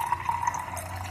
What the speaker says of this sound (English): I'm going to just pour some into this cup